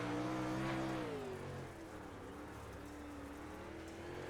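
A dirt-track race car at Lincoln roars at full throttle, then the pitch drops as the throttle is lifted all the way off. A steady, faint-to-moderate drone follows, with no talk.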